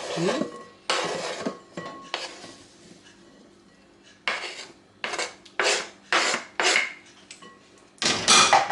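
Chopped salad ingredients for a pasta salad (egg, cucumber, pepper, salami) scraped and tipped into a bowl, giving a series of close, loud scraping and clinking bursts of utensil on bowl with short pauses between them.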